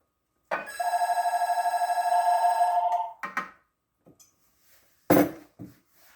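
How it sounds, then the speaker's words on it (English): A telephone rings loudly in a home kitchen, a sustained electronic trill lasting a couple of seconds. A short second ring follows, then a few faint kitchen clatters and a sharp knock. "And there goes that phone."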